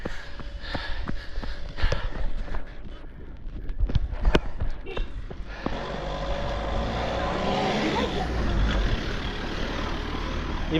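Cars and a truck labouring up a steep hairpin road in Pokhara, engines droning steadily under clattering footsteps and background voices, loud and close.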